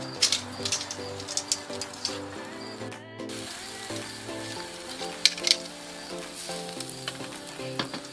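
Caramel sizzles in a pan while cooking Vietnamese broken rice, a steady close frying hiss with occasional stirring clatter and faint background music.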